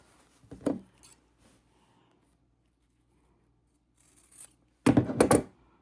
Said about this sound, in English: So just go ahead and snip off each corner, making sure that you're not cutting into the fabric of the table runner.